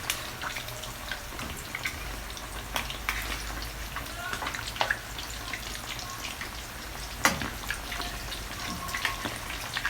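Homemade salmon cakes fry in a pan with a steady close crackling sizzle, sharp oil pops scattered throughout.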